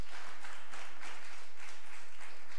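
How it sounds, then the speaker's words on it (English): A church congregation claps steadily in a sustained, even round of applause, a dense wash of many hands with no talking over it. "Kindly give a clap offering unto God."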